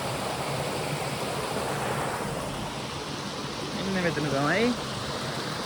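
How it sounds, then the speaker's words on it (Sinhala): Paradise waterfall on the Baththalu Oya route of the Sri Pada pilgrimage pours with a steady broad rushing roar close by, while a voice speaks briefly over it near the end. "පැරඩයිස් ඇල්ල මෙතනින් වැටෙන්නේ"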